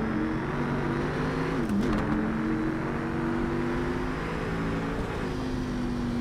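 Dodge Viper V10 engine in the Project Cars 3 racing game, a steady droning hum at constant revs with a brief dip in pitch partway through, heard alone at moderate level.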